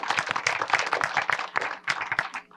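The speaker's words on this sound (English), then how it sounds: "give a round of applause to all of our panelists for joining us today" An audience at a panel event applauds the panelists, a lively burst of many hands clapping with uneven rhythm, close and loud, tapering off at the end.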